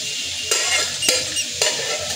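Mustard seeds tempering in hot oil for a Bengali home-cooked bottle gourd peel dish give a steady close hiss, broken by three sharp clicks of a spoon stirring the pan.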